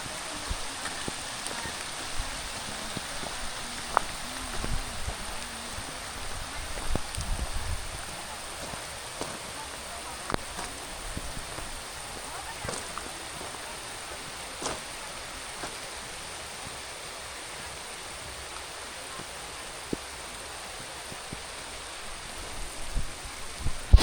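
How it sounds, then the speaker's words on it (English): Steady rain falls outdoors on a rainy day in Bohol, a dense continuous hiss with scattered close drips and taps, no voices. "It's hard to keep the camera dry and no rain on the lens"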